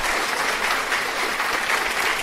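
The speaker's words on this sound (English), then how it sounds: "After you stop clapping, of course." An audience claps steadily, a dense continuous wash of many hands at a fairly loud, even level throughout, with no voices above it.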